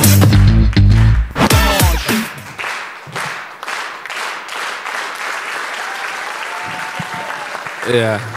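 Applause from a stand-up comedy audience rises after a comedian closes a set, with sustained clapping and cheers and a host's voice speaking over the crowd.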